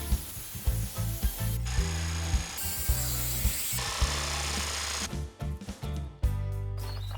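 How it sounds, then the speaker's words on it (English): A jigsaw cutting freehand at an angle through wood for a waney edge bench seat, buzzing in bursts with short pauses and shifts in pitch, loud and close, with no talk. "I'm going to set the jigsaw at an angle and then I'm just going to cut this out freehand"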